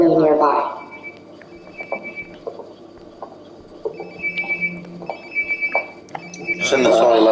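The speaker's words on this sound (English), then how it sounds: "Sounds like my phone is definitely nearby." Phone ringing nearby in Life Is Strange: Before the Storm, a repeating electronic ring tone in short bursts, faint and muffled, between louder speech at the start and end.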